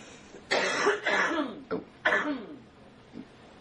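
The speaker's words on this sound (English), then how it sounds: "May I cough once more?" Several short, harsh coughs come in a loose burst, one after another, fairly close in an otherwise quiet room.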